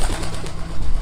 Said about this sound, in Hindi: जैसे ही मोहन ने कमरे का गेट खोला वैसे ही फर्र से 2 कबूतर कमरे से बाहर उड़ गए